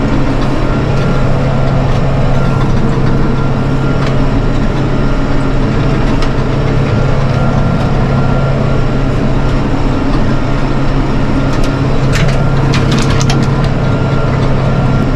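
A tractor engine runs steadily while cutting fields, a loud, continuous low rumble with a constant hum and occasional faint clicks, with no talking over it.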